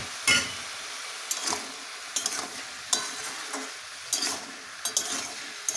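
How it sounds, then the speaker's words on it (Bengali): Bottle gourd and shrimp being stir-fried in a pan, with a steady sizzle broken by about eight sharp scraping stirs of the spatula at irregular intervals, close and fairly quiet, with no voices. "খুব সহজ পদ্ধতিতে লাউ চিংড়ি রান্না করা আমি দেখাচ্ছি।"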